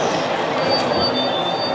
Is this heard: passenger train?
yes